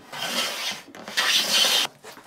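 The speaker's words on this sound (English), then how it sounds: "you can hear the blade engage here, skip no engagement, re-engage" Hand plane blade shaving along a wooden board edge, two long close rasping strokes with a short pause between them and a brief lighter scrape at the end.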